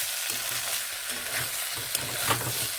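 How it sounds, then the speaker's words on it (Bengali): Onion flower stalks (peyaj koli) fry in a pan with a steady, soft sizzle, punctuated by light stirring scrapes and small crackles. "এইভাবে ভেজে নিতে হবে এগুলোকে এইভাবে"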